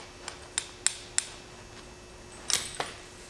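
Sharp metallic clicks and taps from a crimping tool closing a tire chain link, about seven brief strikes spaced irregularly, close and fairly quiet, with a small cluster near the end.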